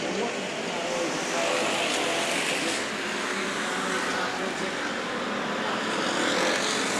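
Hobby stock cars roar around the track at Santa Maria Raceway, a thick, steady wash of engine noise with crowd ambience, unbroken and loud throughout.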